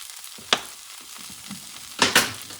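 Garlic fries in a pan under a soft hiss, with three sharp scraping stirs and a few light taps, close and with no voices.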